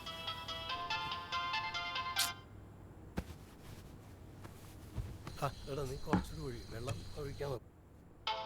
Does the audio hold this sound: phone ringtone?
yes